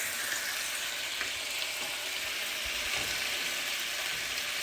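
Meat browning for gumbo sizzles and fries steadily in a hot pot over medium heat, a close, even hiss with faint crackles, alone without talk.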